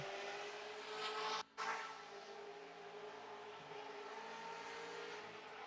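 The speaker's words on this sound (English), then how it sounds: "I'm trying to hear some limiter on Outer Zone 3 from this Corvette" A Corvette race car at a pro-am track event held at a steady high-pitched engine drone near the rev limiter, loud and sustained with one brief cutout early on, no talk.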